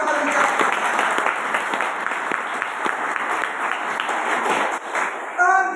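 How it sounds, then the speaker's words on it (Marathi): An audience at a lecture breaks into loud, steady applause, many hands clapping together at close range, with a voice speaking over the clapping toward the end. "एकदा जोरदार टाळ्या वाजवा"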